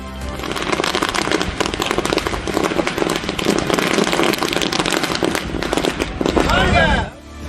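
Firecrackers set off at a political party celebration in Cuddalore, Tamil Nadu, burst as a dense, nonstop string of loud cracks and pops for several seconds before cutting off abruptly.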